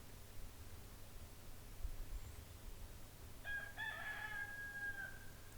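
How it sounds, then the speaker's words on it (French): A rooster crows once from a short distance in a garden field where hens and cocks roam, its drawn-out call standing alone over a steady low outdoor hum and faint background noise. "on peut voir qu'il y a des poules et des coqs dans le champ de la caméra"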